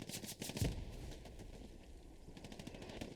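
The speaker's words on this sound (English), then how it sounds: "Strafing run coming in" An aircraft makes a strafing run in Hell Let Loose, with faint distant bursts of rapid gunfire and one heavier thump early on, set against a low battlefield background.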